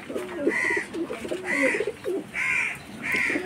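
Madras pigeons in a Kolkata loft give about four rhythmic, throaty coos in quick succession, fairly close and clear, with little else around them.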